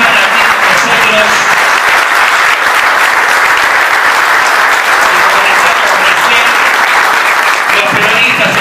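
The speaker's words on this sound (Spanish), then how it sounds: "un fuerte aplauso por estar aquí con nosotros" A loud, dense wave of applause and crowd noise fills a Peronist political gathering in Argentina, sustained and steady for several seconds without a break.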